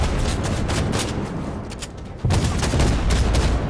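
Rapid gunfire in the Fortnite video game, dense overlapping bursts of shots that are loud and continuous, briefly thinning before surging again even louder.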